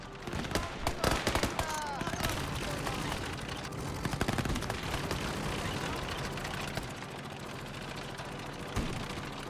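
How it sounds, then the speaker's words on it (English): Anti-tank gun firing in the World War II game Gates of Hell, heavy booming shots amid dense battlefield gunfire and rumble, with several sharp reports near the start and a steady barrage throughout. "I hear an anti-tank gun."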